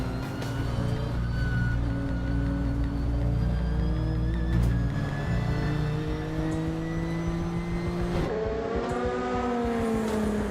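A race car, a Nissan, roars past with a loud engine whine during the Spa 24 Hours race, its pitch sweeping as it goes by, amid continuous racing engine noise.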